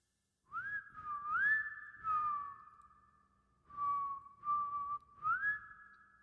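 A person whistles a wavering tune in several phrases, soft and fairly close, with short pauses between them.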